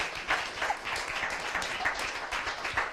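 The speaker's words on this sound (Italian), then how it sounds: "Fatemi un applauso." A short burst of applause from a small group, uneven clapping with a few sharper individual claps poking through, moderately close and without voices.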